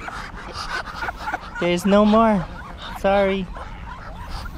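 Small dogs whimper in two drawn-out, high rising-and-falling whines near a duck-feeding spot in New Zealand, while a person speaks softly between and around them.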